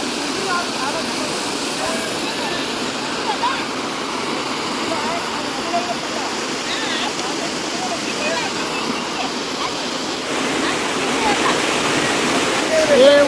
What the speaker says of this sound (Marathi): वरून जे दिसतं तुम्हाला धबधबा असं वाहतं पाणी